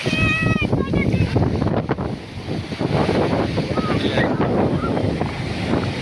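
Sea waves break on the shore at Tiruchendur beach, a continuous loud wash of surf mixed with gusting wind rumble on the microphone, with faint voices and distant calls in the background.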